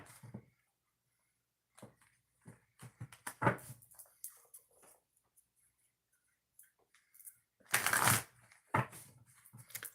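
Oracle cards riffled in a couple of shuffles, crisp fluttering bursts up close with a long dense shuffle near the end, between quieter handling taps and pauses.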